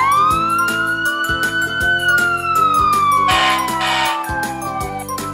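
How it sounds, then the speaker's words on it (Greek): A fire engine's loud wailing siren rises and falls continuously close by, with a rhythmic pulsing beat underneath and a brief burst of noise midway. "Το πυροσβεστικό είναι ένα μεγάλο όχημα που σβήνει"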